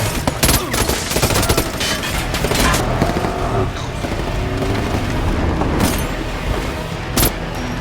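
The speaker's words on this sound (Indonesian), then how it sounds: "dia pun melepaskan tembakan ke salah satu polisi dan terjadilah baku tembak antara mereka" A loud shootout between a gunman and police, rapid bursts and single booming shots overlapping in a chaotic, dense barrage.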